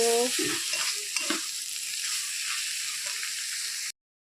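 Dried shrimp bhartha frying in a pan as it gets stirred, a steady close sizzle with a few scraping strokes near the start, fairly quiet and without talk, cutting off abruptly at the end.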